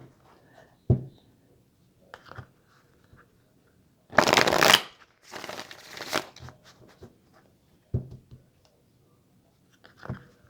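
Tarot cards are shuffled in a few short, crisp riffling bursts, close and clear, separated by quiet pauses with small taps and handling noises.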